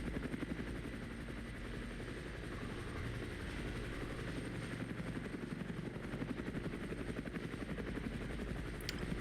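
Mi-24 helicopter in the wargame Armored Brigade, a steady rhythmic rotor thump with low engine drone, sustained and moderately distant throughout, alone without talk.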